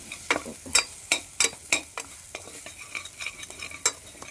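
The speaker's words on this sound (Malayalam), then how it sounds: "1 ടീസ്പൂൺ മല്ലിപ്പൊടിയും കൂടെ ചേർത്ത് നന്നായിട്ട് വഴറ്റി" Coriander powder masala with turmeric is sautéed in a pan. A spoon scrapes and stirs in quick, irregular strokes against a low background sizzle, close up.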